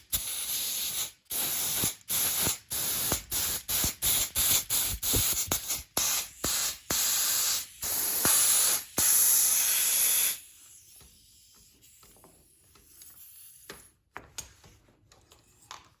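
Compressed air hisses in loud bursts through a clogged carburetor from a Yamaha GP1200i jet ski, a rapid run of short blasts followed by a long steady blow, then quieter gaps and a few final puffs.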